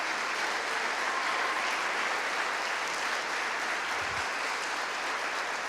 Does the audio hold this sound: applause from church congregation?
yes